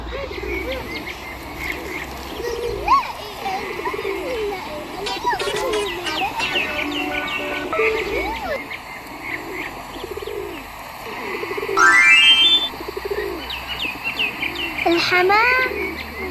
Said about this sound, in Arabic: الحمام من أشهر الطيور بالعالم وله ألوان كثيرة